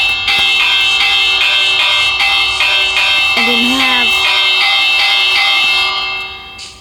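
A Minecraft bell triggered through a redstone pressure plate rings repeatedly in a steady rhythm, loud and close, as bright metallic strikes that keep going and then fade out.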